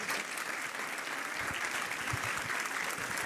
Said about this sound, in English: let's give one more absolute round of applause